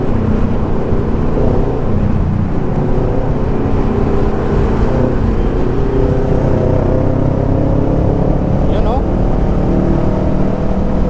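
Kawasaki Ninja 650 motorcycle fitted with a new Orion muffler, cruising on a road toward Calatagan: a steady, loud engine drone with a low rumble and wind noise throughout, and a rider talking over it.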